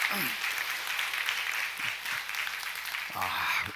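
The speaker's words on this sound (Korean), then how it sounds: "우리 박수 한번 보여드리죠." Church congregation applauding during a Sunday service, a steady wash of clapping from a mid-distance crowd, with a voice briefly heard at the start and end.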